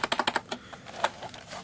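Quick run of sharp key clicks on a clicky Sega Saturn Netlink keyboard, a fast cluster at first then scattered, softer presses, heard up close and alone.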